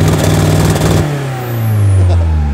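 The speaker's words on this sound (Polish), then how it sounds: "Ja mu daję gaz, zabieram jakby nogę z pedału gazu, on dalej odcina." A chip-tuned Audi A3 quattro with a 1.9 TDI diesel engine revs hard against the limiter, stutters, then drops and swells again in a loud, close drone; someone talks over it.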